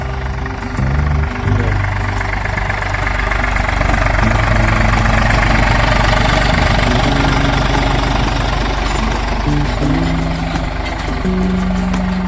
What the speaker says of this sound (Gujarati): ઓટોમેટિક ટ્રેક્ટર હાલે, ખાલી શેડે વાળવાનું જોઈએ.